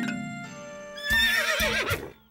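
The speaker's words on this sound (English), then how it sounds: "find another horse to visit Honey Pie" Cartoon horse whinnies in a children's animated show, a loud rising and falling neigh over a soft musical bed, ending with a brief snort-like trail.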